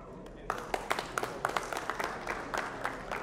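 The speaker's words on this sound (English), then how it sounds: "Please, a round of applause once again for the president" Scattered audience clapping at a traditional wedding ceremony in Houston, Texas, a spread of separate hand claps across the room, moderately loud and uneven, with faint voices murmuring beneath.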